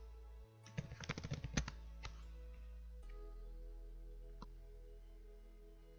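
Keystrokes on a computer keyboard as a new password is typed: a quick burst of crisp clicks near the start, then a couple of isolated taps over a steady low hum.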